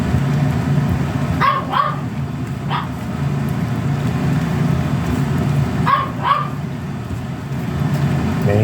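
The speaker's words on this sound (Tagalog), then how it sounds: "yung alagang aso si Kaya nangihingi na naman ng pagkain naamoy niya tong luto ko" A dog barks in two short bursts, begging for food, a couple of sharp barks early and another pair later, over a steady background hum and sizzling of lima bean seeds and ground pork frying.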